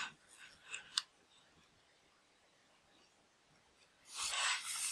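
An assembled X-axis, with a zip tie along it, is slid by hand and gives a few sharp, close clicks, followed a few seconds later by a louder scraping rush of movement.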